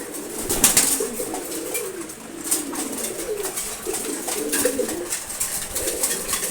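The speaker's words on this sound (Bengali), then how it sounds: "এখানে প্রায় ছয় জাতের কবুতর আছে" Several pigeon breeds, including racers, Giribaz and Maxi racers, coo in low, repeated throaty phrases around a loft, with occasional wing flaps and a steady background hiss.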